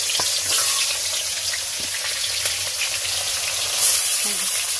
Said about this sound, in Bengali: তো এবারে রুই মাছটা ভেজে নেব।